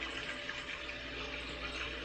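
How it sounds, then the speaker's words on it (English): Tap water running steadily into a big pot, a faint continuous rushing splash with no pauses, close by and quiet, with no voices over it. "I'm gonna fill that up about 3/4 of the way to a little bit less with water"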